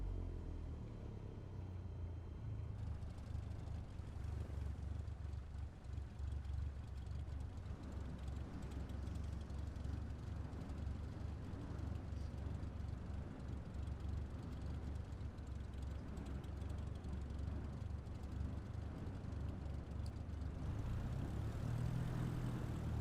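Light aircraft engine taxiing in Microsoft Flight Simulator with the parking brake off and throttle slightly raised, a steady low droning rumble holding for the whole stretch, alone with no talk, swelling a little near the end.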